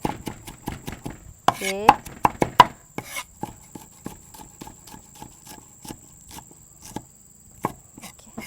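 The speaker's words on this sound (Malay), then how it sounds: "Bawang putih. Cincang sekali." Garlic is chopped finely with a knife on a board, a rapid run of crisp close taps, some louder and some softer, with a brief spoken word.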